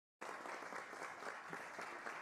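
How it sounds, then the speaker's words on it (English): An audience clapping at a hearing, sustained applause that starts abruptly after a moment of silence and continues evenly, somewhat distant and faint. "Hear the claps?"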